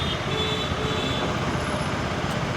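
Road traffic streams along the Hosur highway as a steady, dense wash of engine and tyre noise from passing trucks and cars, even and unbroken over a couple of seconds.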